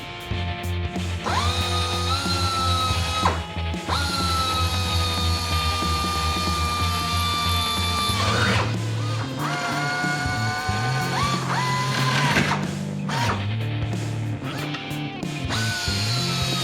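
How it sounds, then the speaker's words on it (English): A power drill match drilling holes through an aluminum flap bracket, rib and spar on a Van's RV-7A experimental airplane, whining steadily at close range with pitch shifts as the bit loads and releases, broken by short pauses. "I can match drill the bracket to this"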